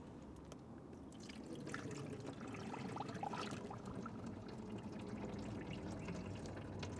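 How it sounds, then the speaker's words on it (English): Bottled natural mineral water pours down into a TROBOLO composting toilet, making a continuous, soft trickling and splashing stream that holds steady for several seconds. "we've got some Aspect English natural mineral water, which we're going to pour down inside"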